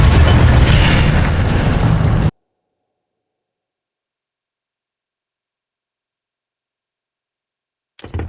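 An Incendio fire spell cast in the video game Hogwarts Legacy bursts as a loud, dense, roaring blast lasting about two seconds, then cuts to silence before a short burst at the very end.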